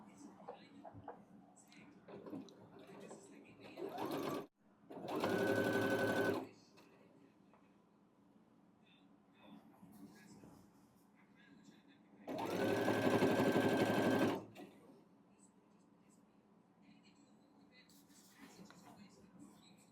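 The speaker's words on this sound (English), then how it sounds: "I'll be placing a top stitch just right along the edge seam." A sewing machine top-stitches along the edge seam of a baby quilt in two separate bursts of a few seconds each. A voice talks quietly in the pauses between them.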